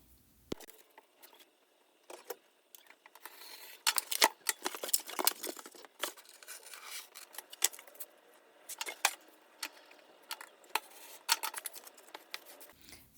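Scissors snipping a firm craft board down to size, close and quiet, with a run of short crisp cuts and small clicks coming in irregular bursts over a near-silent background.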